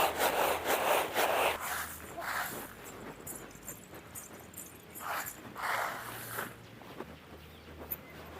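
Lentils are split by hand on a stone in a village kitchen, giving rough, repeated grinding and rubbing strokes in uneven bursts, close and moderately loud.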